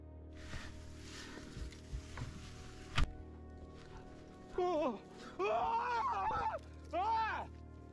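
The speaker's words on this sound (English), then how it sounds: "You can hear the guy scream like he's seen a ghost." A climber on Futago in Japan screams in terror as a bear lunges at him from above, recorded on a GoPro. After a few seconds of rustling, several loud, close, wavering wails and cries come in bursts.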